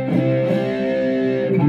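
An electric guitar plays through a Roland Micro Cube amp on its Rectifier model, one sustained distorted chord ringing out loudly and evenly with no voices.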